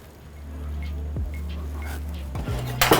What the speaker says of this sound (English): I want to add a little bit more stock to that